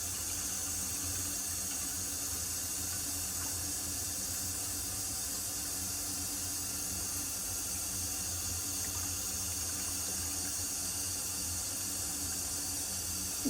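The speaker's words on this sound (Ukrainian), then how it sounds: "набираємо холодної води, щоб повністю погрузилися яйця" Steady rushing of cold tap water pouring into a pot of eggs, a continuous broadband hiss that holds evenly for the whole stretch with no voices.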